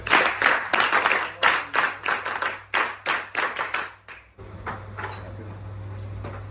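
At a college felicitation ceremony, NCC cadets give a loud, rhythmic unison clap of evenly spaced group claps that stops abruptly, leaving a quieter hall with faint room noise.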